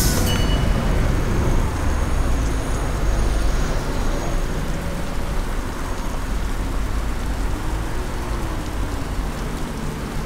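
An Arriva Alexander Dennis Enviro 400H MMC hybrid double-decker bus drives along in rain, with a steady loud rumble of engine and road noise under the patter of rain throughout.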